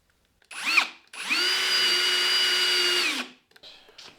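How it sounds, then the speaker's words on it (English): A cordless drill bores holes under a workbench to mount a vise, a short burst followed by a steady high whine that runs about two seconds before winding down. It is close and loud, with no talk. "So let's drill these holes first."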